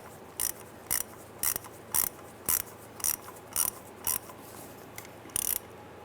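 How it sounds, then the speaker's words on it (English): A hand ratchet clicks in nine short, evenly spaced bursts while snugging the center 7mm bolt on the automatic transmission wire harness connector of a 2005-2010 Chrysler 300, close and crisp over a quiet background. "we're now installing the center 7mm bolt here"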